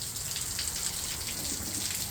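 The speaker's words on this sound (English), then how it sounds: "Why is it raining so much?" Rain falling outdoors in California, a soft steady hiss of drops with faint splashing and trickling water, continuous and fairly quiet, no talking.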